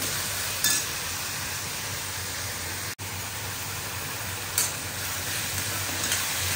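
Chopped onion sautéing in a pan until lightly browned gives a steady, close sizzle throughout, broken by a couple of brief soft knocks.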